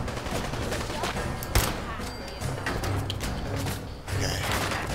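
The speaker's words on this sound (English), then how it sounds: "Who else is shooting at me?" Sustained gunfire from a Fallout 4 firefight, with dense rapid shots and one sharp louder report near the middle, running continuously under game effects.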